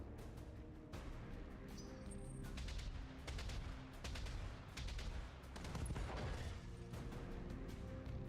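Long-range missiles fire and explode in BattleTech, a dense barrage of rapid booms and crashing impacts rolling in waves over several seconds, distant-sounding and fairly quiet.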